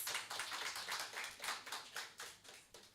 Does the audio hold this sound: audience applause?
yes